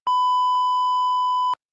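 A steady electronic censor beep masks a word on a podcast, a single continuous tone lasting about a second and a half, loud and alone with no talk over it.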